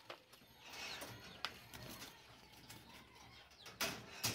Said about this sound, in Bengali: এই যে এটা হচ্ছে নর কবুতর।